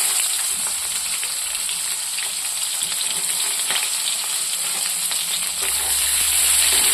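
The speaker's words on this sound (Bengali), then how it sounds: "পেঁয়াজটা খুব লাল লাল করে ভাজবো।" Onions with a bay leaf frying in a little oil in a kadai for a chicken curry, producing a steady, close, bright sizzle with scattered pops and no voices.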